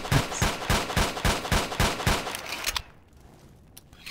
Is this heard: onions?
no